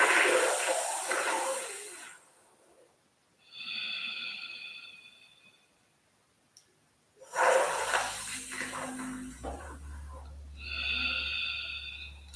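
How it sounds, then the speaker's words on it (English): Yoga cooling breath: two cycles of a soft, airy hissing inhale sucked through a curled tongue, each followed by a quieter nasal exhale, close and breathy with pauses between. "making a soft, maybe slurping sound As you suck the air through the straw"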